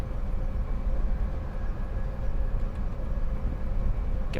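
A four-car Electrostar train rolls past on the quarry lines in Train Simulator Classic, a steady, fairly loud rumbling roar with no voices over it.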